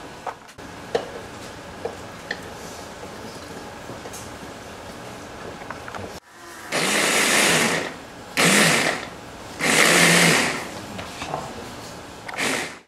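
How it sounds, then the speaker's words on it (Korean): A blender purees cherries that were simmered down in wine, running in several loud bursts of roughly a second or two each with short pauses between, after a quieter stretch of faint kitchen background. "블렌더에 갈아주시면 됩니다"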